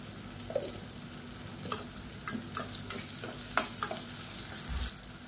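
Onions sauté in ghee in a pan with a soft, low sizzle, broken by a few light scrapes and taps of a stirring spoon, fairly quiet and close, with no voices.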